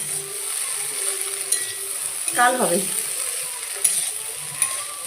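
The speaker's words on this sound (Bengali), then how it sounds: "তো চলো আলুটা ভেজে খেতে দেই" Sliced potatoes frying in a pan in a home kitchen give a steady, close sizzle through the whole stretch, with a brief voice speaking partway through and a few light clinks.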